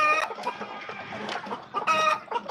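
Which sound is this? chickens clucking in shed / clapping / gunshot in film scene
chickens clucking in shed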